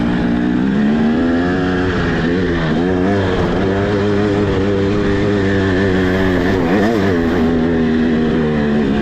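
A 2023 300XC enduro dirt bike rides in first gear on a hard enduro trail, its engine loud and close with a rising and falling, revving two-stroke drone that continues throughout.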